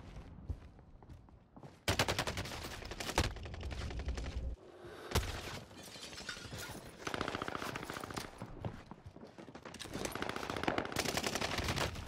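Rapid automatic AK47 fire in Call of Duty Warzone crackles in dense, repeated bursts across the clip, loud and close, with brief gaps between volleys and no talking.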